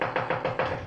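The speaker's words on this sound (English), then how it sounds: "Knock again." Knuckles rap on a door in an old radio drama, four quick, fairly loud knocks in an even rhythm with no voices over them.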